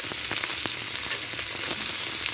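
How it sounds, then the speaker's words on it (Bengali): Fish pieces frying in hot oil make a dense, loud crackling sizzle heard up close without pause. "মাছগুলো আমার ভাজা হয়ে গেছে।"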